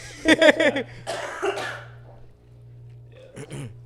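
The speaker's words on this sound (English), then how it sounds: "Has anyone else still got a cough?" A few harsh coughing bursts up close, a cluster early on, then another short coughing fit near the end after a quiet pause.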